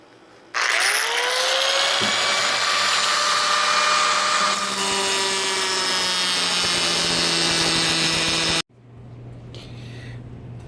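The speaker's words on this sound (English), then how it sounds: "Some bolts, I'm going to grind these off." Power grinder cutting off bolts on the roof of a Jeep XJ, a loud sustained high-pitched whine that starts abruptly, slowly drops in pitch under load, then cuts off and leaves quieter background noise.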